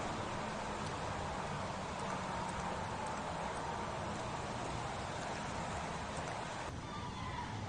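Rain falls steadily in the video game Heavy Rain, an even, soft hiss of downpour that stays constant and fairly quiet throughout with no talking.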